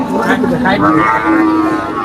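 Cattle lowing at a busy market among many cows, including Australian cross breeds, a loud, close, drawn-out moo that fills the short stretch, with crowd noise behind.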